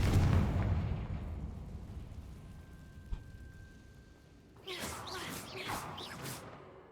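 Confringo fire spell blasting in the Hogwarts Legacy video game: a loud rumbling burst at the start that slowly dies away, a small thump partway through, then a voice talking.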